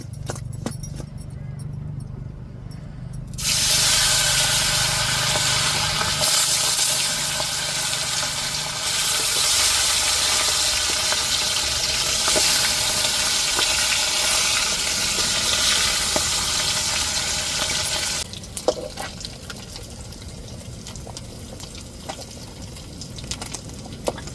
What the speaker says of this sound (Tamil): இப்போ இன்னொரு அடுப்பில் வந்து மீன் பொறிக்கிறதுக்கு எண்ணெயை ஊற்றிருக்கேன் சூடேறிட்டு இப்போ மீனை நம்ம அப்படியே பொறிச்சு பொறிச்சு எடுத்துருவோம்